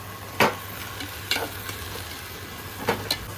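Vaseti bhaji greens stirred in a pan over low heat, a soft steady sizzle broken by a few scraping strokes of the spoon, fairly quiet and close.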